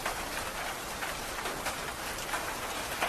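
Steady rain pours down over a city during a downpour, a dense, continuous hiss of drops on surfaces with no pauses, fairly loud and even throughout.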